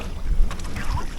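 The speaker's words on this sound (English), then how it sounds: "this wind is something else" Gusty wind buffets the microphone from a kayak while fishing in the Everglades, a close, rumbling, fluttering roar with no speech.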